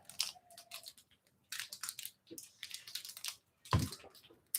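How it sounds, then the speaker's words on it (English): Rim tape on a Schwinn S-5 bicycle wheel crunches in short crackling bursts, separated by brief pauses, with one louder crunch near the end, close and fairly quiet, with no talk. "Hear that tape crunching?"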